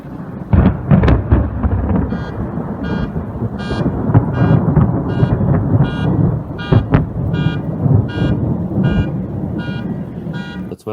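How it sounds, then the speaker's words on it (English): Thunder from a lightning storm rolls as a loud, sustained low rumble, with rain steady underneath, while a pulsing car alarm repeats throughout. "Here comes the thunder."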